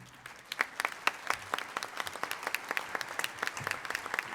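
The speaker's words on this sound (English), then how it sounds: "So if you are an elected official, please stand up so we can give you a round of applause." Modest, fairly sparse applause from a small audience at a chamber of commerce breakfast meeting, greeting standing elected officials; individual claps stand out as the clapping picks up and continues at a moderate, slightly distant level.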